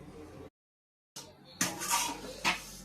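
A metal lid clanks down onto a pot of biryani with soaked basmati rice, a short sequence of light rattling knocks and a louder scraping clatter near the mic.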